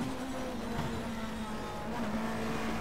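Touring cars race in heavy rain at a 1997 BTCC round, a steady loud engine drone with a held tonal note, tyres hissing through spray, continuous with no clear passes.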